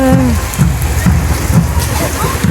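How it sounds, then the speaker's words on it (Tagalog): Heavy rain pours down steadily in Ragay, Camarines Sur, Philippines, with a dense, constant hiss and patter, close and loud throughout. "Ang lakas ng ulan."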